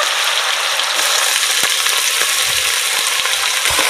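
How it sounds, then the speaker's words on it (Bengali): Steady, close sizzling of potatoes frying in hot oil, a continuous crackling hiss with a few soft stirring knocks, no voices. "এবার সুন্দর করে আগে আলুগুলো ভালো করে ভেজে নেব।"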